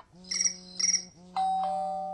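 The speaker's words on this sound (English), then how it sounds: "And then we've got ringtones like this." An iPhone 5 ringtone on iOS 6 plays as bright electronic chimes: two quick ringing bursts, then a sustained tone over a steady low hum, clear and close.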